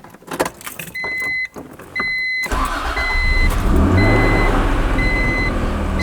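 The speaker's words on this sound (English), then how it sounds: "so let's go ahead and start the car." An Acura NSX NA1 engine turning over and catching, preceded by repeated electronic chime beeps, then settling into a steady, loud idle rumble.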